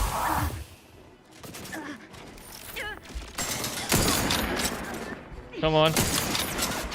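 Bursts of gunfire in The Outer Worlds 2 crackle in and out over several seconds, mixed with mechanical clanks and a sharp synthetic zap, while a person speaks briefly.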